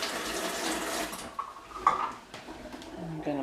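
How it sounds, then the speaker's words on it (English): A spoon is rinsed under a running kitchen tap, water splashing steadily at first, then giving way to a few light clinks of metal against the sink, close by and with no talk. "Rinse my spoon."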